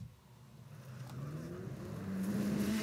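A car engine hums and rises in pitch while drifting in the racing video game Need For Speed: The Run, a steady moderate whine that climbs toward the end.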